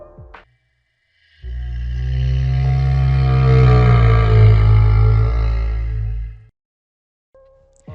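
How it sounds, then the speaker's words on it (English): In BioShock's underwater city of Rapture, a Big Daddy lets out one deep, droning groan lasting about five seconds. It rises out of near silence, holds steady and loud, then cuts off abruptly. "here's what it sounds like to be in Rapture with a Big Daddy around"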